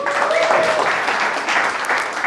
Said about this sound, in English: Everyone give a clap for putting together this.